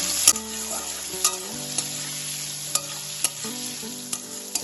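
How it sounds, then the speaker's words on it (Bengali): Bitter gourd pieces fry in hot oil with salt and turmeric, making a continuous close sizzle broken by a few sharp clinks of stirring against the pan. "এখন আমি এর মধ্যে দিয়ে দেবো উচ্ছে উচ্ছেগুলোকে হালকা ভেজে নেওয়ার জন্য"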